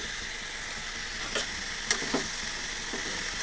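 Cauliflower and tomato curry cooking in a pan with a steady close sizzling hiss, a few soft scrapes and clicks as it is stirred, no voices.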